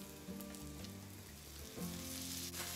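Onions and cheese sizzle in a pan, a soft steady frying hiss beneath a faint musical background.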